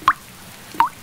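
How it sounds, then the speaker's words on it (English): Rain dripping onto a hat in a children's cartoon about a noisy lion, heard as two crisp, separate drip plops about seven-tenths of a second apart, close and clear over a quiet background. "I can hear the rain drip-dropping on my hat."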